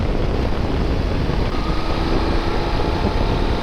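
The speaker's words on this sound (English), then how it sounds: "Oh, team of bikes coming up here." A group of motorcycles approaches on the road, a steady broadband engine roar mixed with wind rush, constant and fairly loud throughout with no talking.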